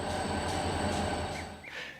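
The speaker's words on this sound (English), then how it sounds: "There's a train going by." A train rolls past on the railroad track beside an outdoor shooting range, a loud steady rumble with metallic wheel squeal and a high screech rising near the end.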